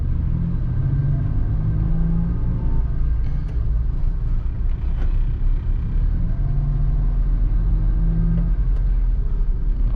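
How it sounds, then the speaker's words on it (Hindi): Cars crawl through a traffic jam on University Road in Karachi, giving a continuous close rumble of engines and road noise with occasional swells of revving, with no one talking. "पता नहीं क्या मसला है यहाँ पे, क्यों फंसा हुआ है ऐसा ट्रैफिक"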